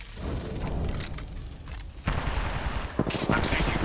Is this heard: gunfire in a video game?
yes